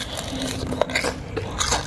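Someone bites into crispy fried eggplant made without breadcrumbs, giving a couple of sharp close crunches followed by soft chewing, with no talking.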